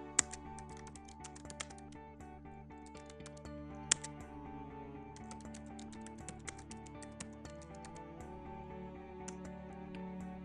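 Someone types keyboard shortcuts on a computer keyboard, producing faint, scattered key clicks over a steady humming, tonal background.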